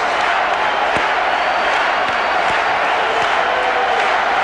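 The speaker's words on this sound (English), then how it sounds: "this Phoenix crowd known as one of the more passive crowds in the NBA. Not anymore. Every one of them standing and chanting." Packed Phoenix Suns arena crowd at an NBA playoff game against the Spurs, standing and chanting in a loud, continuous roar that fills the space, with occasional sharp thumps cutting through the sustained din.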